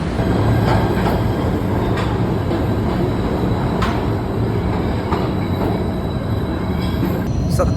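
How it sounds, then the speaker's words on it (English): A PATH commuter train runs steadily through a New York City tunnel, its loud continuous rumble joined by rattling wheels, clicks and brief metallic squeals, with no talking. "the PATH train is going all the way up to 33rd Street"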